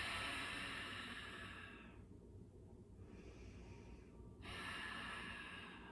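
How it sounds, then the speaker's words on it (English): Slow, deep breathing during a yoga flow: a long airy inhale, a quieter pause, then a full breath resuming, close and soft with no talk. "Big breath."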